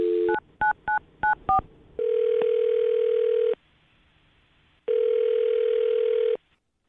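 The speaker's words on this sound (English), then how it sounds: "I'm dialing this phone number right now" A telephone is dialed with six short, quick keypad tones, then a long steady dial tone plays, stops for about a second, and sounds again. No one speaks.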